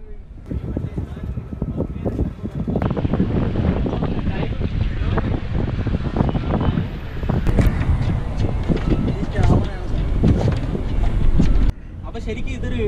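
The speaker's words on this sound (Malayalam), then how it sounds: "ബോട്ട് സ്റ്റാർട്ട് ചെയ്തിട്ടുണ്ട്" A boat engine rumbles continuously on a harbour trip, a low, steady drone mixed with wind buffeting and scattered knocks and clatter, loud and close throughout.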